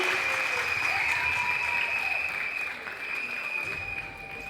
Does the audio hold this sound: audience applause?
yes